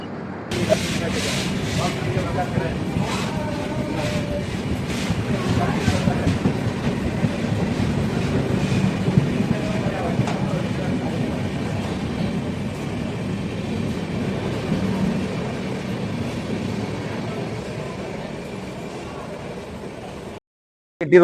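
An express mail train departing a station rumbles and clatters steadily along the rails for about twenty seconds, a loud, continuous rolling roar with faint voices underneath.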